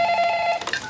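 A telephone rings for a radio station's call-in line, a single short electronic ring tone with a steady buzzing pitch, clear and close.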